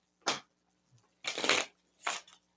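Three quick riffle shuffles of a deck of game cards during a tabletop game session, crisp fluttering bursts close to the mic with a faint tap between them and no talking.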